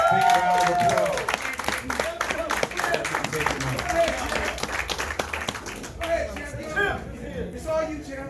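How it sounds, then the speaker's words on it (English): Applause and clapping from the audience at a boxing post-fight press conference, scattered hands ringing out under and between bursts of talk, moderately loud and close. "let's give this young man a great big round of applause"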